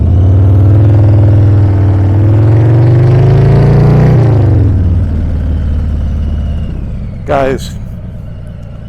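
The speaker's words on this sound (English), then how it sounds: "the way this bike sounds, it sounds like an absolute hot rod" A 2018 Harley-Davidson Heritage Classic 114 motorcycle idles with a deep, loud rumble in a school parking lot, rising through a steady rev for a few seconds before settling back down, while someone talks over it throughout.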